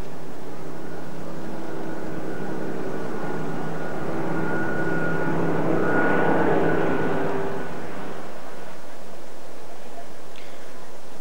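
Fighter aircraft fly past in salute to the Queen at an RAF anniversary event, a loud, steady jet roar that swells to a peak midway through and then fades away.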